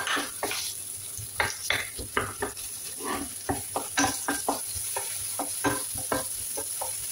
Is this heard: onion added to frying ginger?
yes